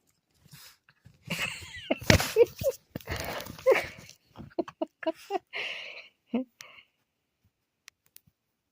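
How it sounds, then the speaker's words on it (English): A small dog yips and whimpers in short, high-pitched bursts, close up, with some scattered clicks and pauses between the cries. "What a crazy little dog."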